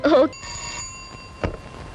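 A brief voice is followed by a short electronic phone ring of steady, bright tones, then a soft click and quiet room noise.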